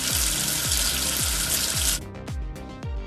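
Cartoon water from a kids' number-tracing game rinses soap off a figure, a loud rushing stream that cuts off sharply, under a repeating bouncy musical bass pattern.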